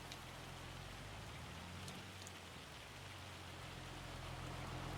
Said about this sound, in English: Is that hail? That looks like hail.